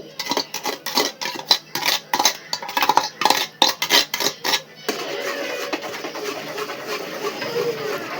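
A spoon scrapes and clanks rhythmically against a pan while stirring paneer curry with tomato paste, a quick run of close metallic knocks that then gives way to a steady sizzle.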